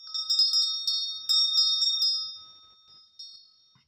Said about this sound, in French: J'ouvre la séance avec la cloche.